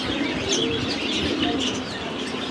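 A pigeon recovering from a surgical operation and refusing its feed coos softly and continuously at close range, with some faint chirping mixed into the steady sound.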